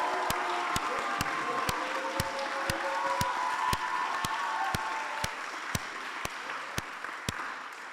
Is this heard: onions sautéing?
no